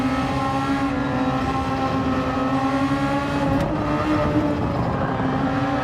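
A Super Formula race car in Gran Turismo 7 at Suzuka, engine braking with a steady, loud, droning engine note that holds close and continuous throughout, with no talk over it.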